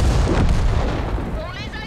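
Artillery guns fire in a video game match, a dense sustained low rumble of booming shots under loud, continuous background noise.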